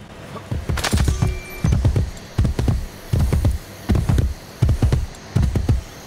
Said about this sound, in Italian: Intanto dammi il cavallo.